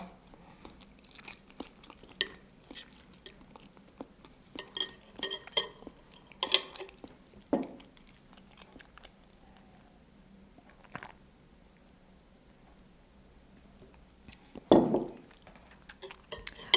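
Kimchi dumplings being eaten: close, wet chewing and crunchy bites alternate with sharp clinks of cutlery against dishes, scattered irregularly with quiet stretches between.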